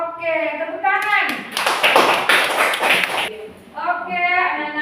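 Schoolchildren in a classroom clap their hands together in a burst of rapid clapping lasting about two seconds, with someone speaking just before and after.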